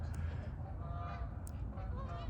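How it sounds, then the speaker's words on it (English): A flock of geese honking loudly and continuously, overlapping calls filling the whole stretch with no talk. "these geese won't shut the fuck up"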